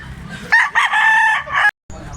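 A white-legged stag rooster crows loudly and close, one full drawn-out cock-a-doodle-doo with no talking over it.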